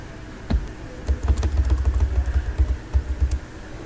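Keys tapped on a computer keyboard while entering a question mark into a search query, a quick irregular run of close, moderately loud clicks with no talking.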